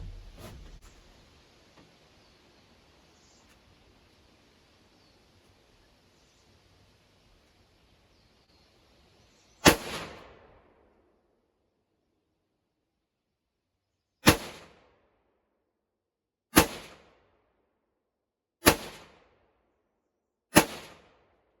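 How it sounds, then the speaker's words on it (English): Five sharp, loud gunshots from a Hunter SKS rifle firing Norinco ammunition at an outdoor range, spaced a few seconds apart, each with a short decaying echo after a quiet rustling lead-in. "Blue target, the Hunter SKS, crappy Norinco ammo. Going live."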